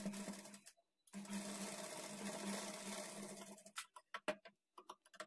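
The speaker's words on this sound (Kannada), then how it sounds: "ಇದ್ರ ಮೇಲೆ ಡಬಲ್ ಸ್ಟಿಚ್ ಹಾಕ್ಕೊಳ್ಬೇಕು" A sewing machine double-stitches a blouse sleeve in fast, steady whirring bursts, pausing briefly near the start, then breaking into short stop-start runs toward the end, close and alone.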